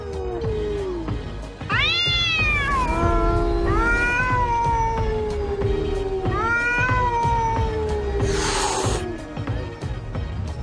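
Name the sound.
cats fighting and caterwauling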